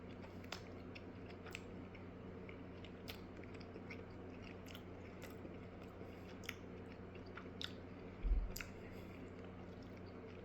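Close chewing and biting on grass-fed lamb coated in a Middle Eastern–Southern BBQ spice rub, soft wet mastication with scattered crunchy bites and one louder thump near the end, over a steady low room hum with no talk.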